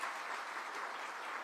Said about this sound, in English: You can clap for that.